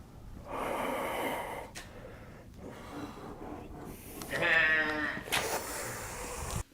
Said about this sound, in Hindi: ये बकरा भी नॉर्मल बकरा नहीं था, हाँ ये आवाज़ भी नॉर्मल बकरे की आवाज़ नहीं